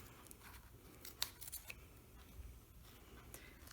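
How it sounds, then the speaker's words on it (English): Quiet close snips of scissors trimming excess zipper tape, a few sharp clicks spaced unevenly over a soft background hiss. "Then you're going to trim the excess zipper."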